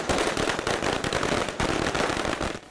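Diwali firecrackers explode in a rapid, loud crackling barrage, dense pops running almost continuously with a brief break midway before tailing off.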